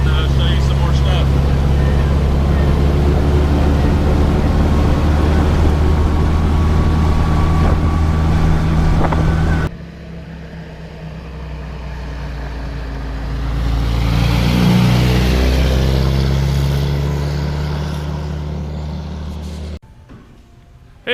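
A 1952 Willys M38 military jeep drives along. A loud, steady engine and road rumble fills the first half, then a quieter, fluctuating drive with a swell of engine noise. Its tone is close and continuous.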